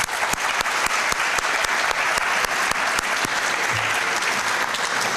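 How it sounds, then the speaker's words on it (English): A crowd at a high school awards ceremony gives dense, sustained applause, many hands clapping evenly throughout at a steady level. "Each one of you deserves a round of applause."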